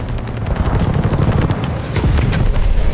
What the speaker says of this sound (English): Under fire! Enemies call a strafing run.